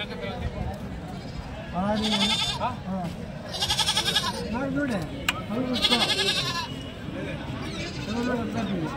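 Goats bleat repeatedly at a busy Tuesday goat market in Kadiri, their wavering cries rising over a crowd's steady chatter and background murmur.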